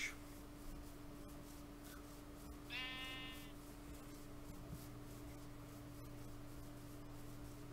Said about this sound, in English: There's a sheep with the catfish.